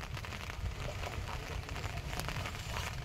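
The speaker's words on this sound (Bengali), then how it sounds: "আবার কিন্তু শুরু হয়ে গেছে বৃষ্টি।" Rain falls over a Sundarbans river during a storm, a soft, even wash of noise with a low rumble underneath and no voices.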